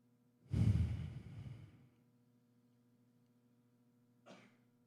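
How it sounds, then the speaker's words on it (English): One deep, heavy breath drawn in and let out with a sighing exhale, close and clear against a faint hum, followed by a short quieter breath a few seconds later. "take your deepest breath"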